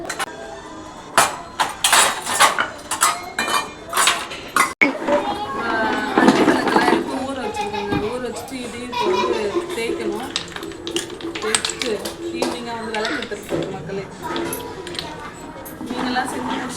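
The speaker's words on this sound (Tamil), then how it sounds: "இப்போ வந்து நான் பாத்திரம் தேய்க்க போறேங்க" Clinking and tapping of dishes and utensils being scrubbed in a sink, with running water and sporadic voices in the background.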